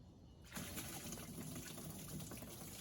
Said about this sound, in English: There goes the rest of the fluid.